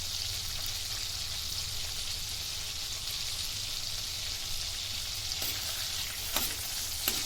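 Bay leaf, a small piece of cinnamon and star anise sizzling in hot oil in a pan for butter paneer masala, a steady close frying hiss with a couple of faint clinks near the end.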